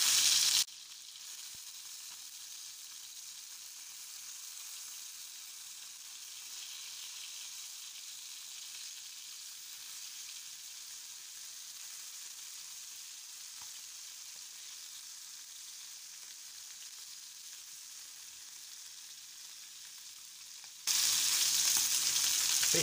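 Fish pieces for a fish curry fry in a pan with a steady, even sizzle that runs unbroken for about twenty seconds, then ends abruptly.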